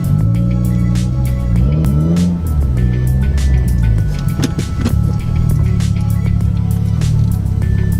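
Car engine hums loudly and steadily from inside the vehicle as it maneuvers to turn around at a dead end, with rising and falling revs and occasional bumps and rattles, no talking.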